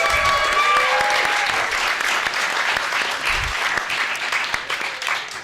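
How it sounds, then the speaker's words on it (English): Sustained applause from a crowd at a poetry recitation competition, dense clapping that stays loud throughout with a brief whistle-like tone near the start. "Let's start this off with another round of applause."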